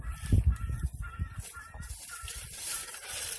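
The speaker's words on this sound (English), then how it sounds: "Whereas Eagle, my rooster, he just goes and takes what he wants." Rooster and hens in a backyard, loud clucks and honking calls close by at the start that settle into softer, scattered fowl noises over a steady outdoor background.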